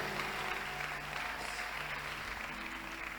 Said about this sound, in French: Si tu veux applaudir, applaudis.